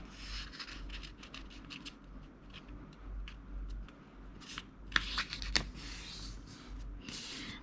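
Bond paper is folded diagonally for an origami crane, heard as soft, close rustling and creasing, with a few sharper paper crinkles near the end.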